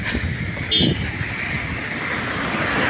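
A foreign passenger airliner flies in to land at an airport near Chennai or Trichy, its steady engine roar heard from a distance under heavy wind noise on the microphone.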